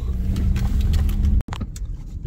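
A car rolls slowly through a residential courtyard on a rough, potholed road in Podolsk, Russia, with a low engine rumble, bumps and rattles up close, briefly cut out, then continuing more quietly.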